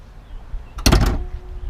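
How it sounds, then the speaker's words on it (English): The hood of a 2017 Nissan Murano pops open with a single sharp, close clunk and a brief rattle, then quiet. "I'm going to pop the hood and we're going to take a look underneath"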